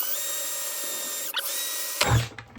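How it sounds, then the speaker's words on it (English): A power drill whines at a steady pitch, stutters briefly, then bites into a plastic bucket with a loud grinding burst before stopping. "We're going to try to hold this bucket and drill at the same time."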